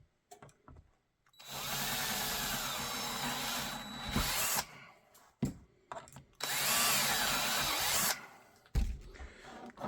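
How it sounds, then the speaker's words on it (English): A power drill bores a 1/4 inch hole in a two-piece holster for a Sig XMACRO with TLR7 Sub, with two loud sustained whining runs separated by short pauses and handling clatter. "now with that drilled, you can go ahead"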